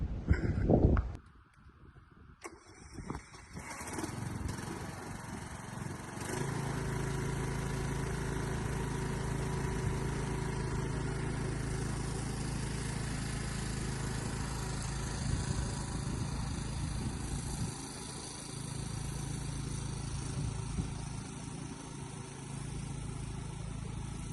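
A lawn tractor's small engine runs steadily at close range after a few brief bumps, a continuous low rumbling drone with no talking.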